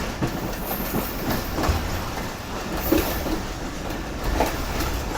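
The Karakoram Express rolls into Dig Road Junction station, a loud, continuous rumble of wheels with rhythmic clickety-clack over rail joints and occasional brief squeals, close and without voices.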